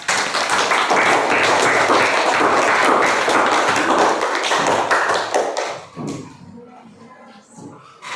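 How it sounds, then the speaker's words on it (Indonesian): A classroom group clapping together, a dense burst of hand claps that holds steady for several seconds and then trails off into a few scattered claps and room noise. "kita beri aplaus untuk kita semuanya"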